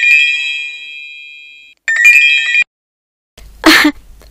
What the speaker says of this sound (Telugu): మంగా ఇదిగో నీ ఫోన్.